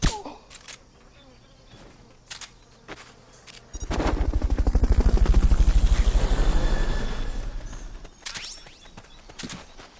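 Helicopter rotor chopping swells up loud and close for several seconds during a Fulton recovery in Metal Gear Solid Peace Walker, amid scattered game effects and clicks before and after.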